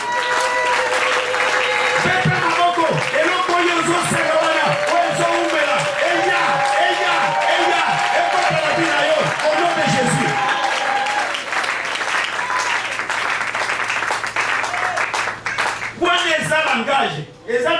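A congregation breaks into sustained, lively applause and clapping, with scattered shouts and chuckles mixed in, while a voice speaks over the crowd before the noise thins near the end.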